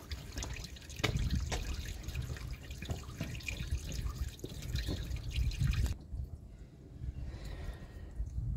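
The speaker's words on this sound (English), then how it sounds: "now you can hear the water flowing better" Coolant water pours and drips out of the bottom radiator hose of a VW Polo Vivo during a cooling system drain, a steady close splashing trickle that thins into quieter dribbling toward the end.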